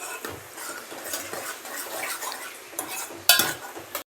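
Tomato masala being stirred in a cooking pot, a spoon scraping and clinking against the metal repeatedly in an uneven rhythm, close by, with a sharper clatter near the end and no talking.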